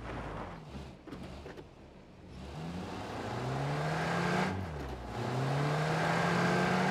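A car engine in a video game drives past, its pitch rising and sliding as it accelerates and sweeps by, loud and close with a steady whir and no talk over it.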